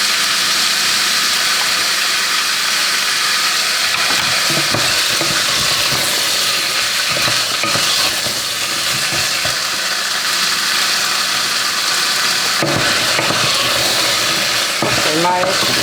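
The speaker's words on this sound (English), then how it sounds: "My asparagus and potato are frying quite nicely" Asparagus and potato frying in a pan with garlic, a loud, continuous close sizzle and crackle with occasional stirring scrapes throughout.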